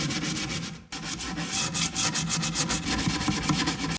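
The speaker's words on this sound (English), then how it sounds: "So back to sanding." A wooden table seat being sanded gives a harsh, continuous scratchy rasp in rapid back-and-forth strokes, close and loud, broken by one brief pause near the start.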